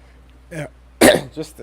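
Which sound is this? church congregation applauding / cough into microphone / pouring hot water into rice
cough into microphone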